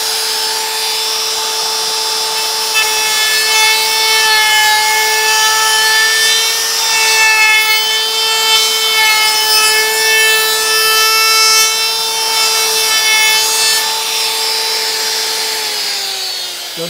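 A power tool cutting a deep chamfer on a wooden desk sign with a steady, loud high-pitched whine and shifting overtones, running continuously before winding down at the end.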